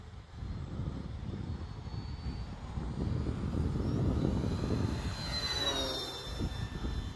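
An Arrows Bearcat RC model warbird makes a high-speed pass outdoors. Its propeller-engine drone swells steadily as it approaches and peaks with a rising then falling whine as it sweeps past, heard alone with no talking.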